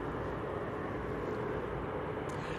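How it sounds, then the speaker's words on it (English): An Emirates airliner taxiing at Manchester Airport gives a steady, continuous low engine rumble and roar from a distance, unbroken across the short stretch with no other distinct sounds. "Emirates is starting its taxi now"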